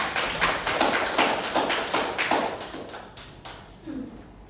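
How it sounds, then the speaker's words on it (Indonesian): Students in a classroom clap for a group of classmates. The clapping is lively and fairly close, then fades out, and a voice speaks briefly at the end. "beri tepuk tangan dulu untuk kelompok 2"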